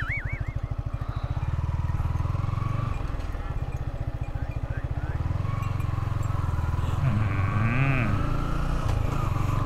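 A herd of cows on the road is met from a Yamaha MT-15 motorcycle: the engine runs steadily and loudly throughout, with a couple of mooing calls rising over it near the end.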